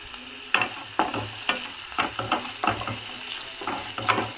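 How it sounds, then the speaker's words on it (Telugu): Sliced onions with slit green chillies frying in a pan, a steady sizzle broken by repeated scraping stirs at a regular rhythm, close and moderately loud with no talking. "పచ్చి వాసన పోయేంతవరకు ఆనియన్స్ వేగాలి"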